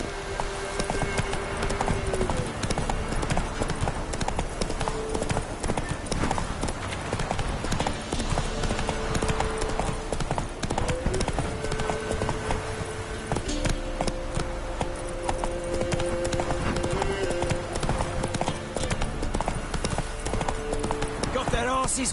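Roach the horse gallops through The Witcher 3 in a steady, fast clip-clop of hooves that runs throughout, with game music and voices talking over it.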